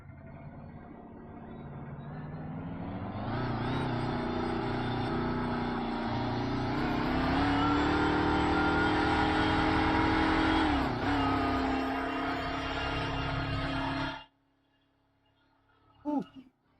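A car engine in the video game DayZ revs up and holds a high, steady roar with shifting pitch, then cuts off abruptly, followed by a short burst of voice.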